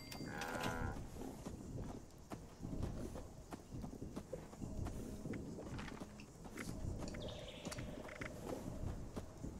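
A cow in the Fallout 76 game lows amid farm ambience, with hoof clip-clop and footsteps mixed in, moderately loud against a busy background.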